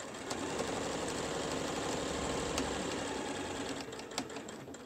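Sewing machine stitches fabric for a surgical cap in a steady, continuous mechanical whir with faint regular clicks, close and unbroken throughout.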